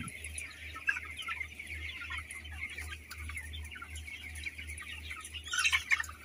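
Broiler chickens in an enclosed closed-house shed keep up a steady, dense flock clucking and chirping at moderate distance, rising into a louder cluster of calls near the end, over a constant low ventilation hum.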